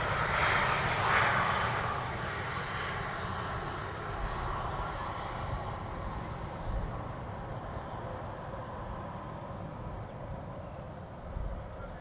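A KLM Cityhopper airliner arriving at Amsterdam Schiphol on a sunny day sounds as a broad, fairly distant jet roar that is strongest at first, then fades into a long, steady wash.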